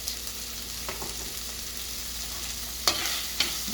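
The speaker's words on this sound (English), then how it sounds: "the onions have been cooking for around 3 to 4 minutes" Onions cooking with salt in a pan give a soft, even sizzle at moderate distance, broken by a couple of sharp utensil clinks near the end; nobody speaks.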